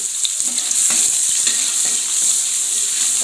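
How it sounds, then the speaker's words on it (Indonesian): Sliced shallots fry in hot cooking oil, a steady bright sizzle with light stirring clinks, close and continuous, with no voices. "Panaskan dulu minyak gorengnya. Kita masukkan untuk bawang merah iris ini ya."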